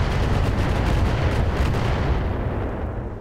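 A mortar carrier fires in the Roguetech mech game, a loud, sustained, rumbling barrage of heavy booms that fills the whole clip and eases off slightly toward the end.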